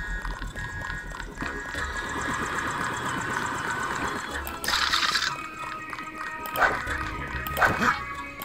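Dogs bark in the Deus Ex video game over a steady game soundtrack, with a few sharper yips in the second half.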